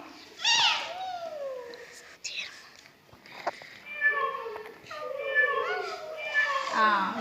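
Schoolchildren in a government school classroom singing a cat song, their voices imitating meowing in a series of high, wavering meows, some overlapping, loud and close throughout.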